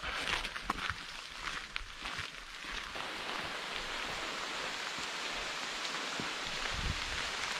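Steady rain falls through a forest in the Morvan during a wet hike, a continuous broadband hiss with scattered drips and patters, fairly close and even in level throughout, with no talking.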